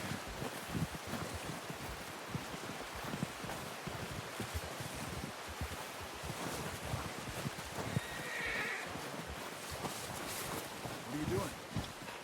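A horse neighs in Red Dead Redemption 2 during an outdoor hunting scene. A short whinny rises among hoof clip-clop, rustling and wind, with game voices talking nearby.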